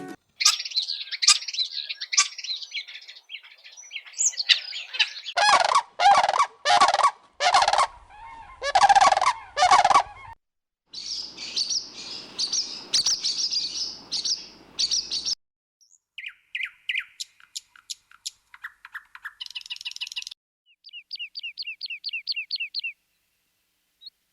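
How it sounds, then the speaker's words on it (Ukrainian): Varied birdsong in quick succession: trilled chirps, harsh repeated gobbling bursts, and clear whistled phrases, each separated by brief silences. "А зараз послухайте, як гарно співають пташки."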